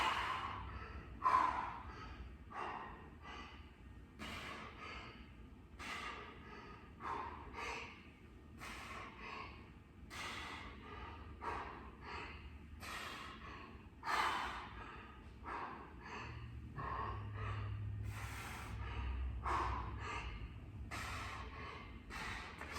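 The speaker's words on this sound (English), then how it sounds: "Keeping that breathing nice and steady." Steady workout breathing, a regular chain of sharp nasal snorts and exhales close to the mic, repeating roughly every second over a low background hum.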